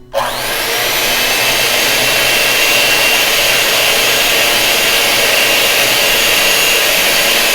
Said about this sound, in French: Donc, on a terminé de fouetter.